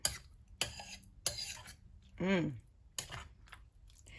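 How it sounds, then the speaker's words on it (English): A spoon stirs a spicy vinaigrette marinade for tilapia, giving a few sharp clinks and scrapes against the container, with a brief vocal sound in the middle. "Okay, let's stir and taste. Make sure you stir well."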